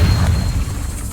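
A Confringo spell explosion in the Hogwarts Legacy video game lands as one short, heavy, deep boom that fades quickly.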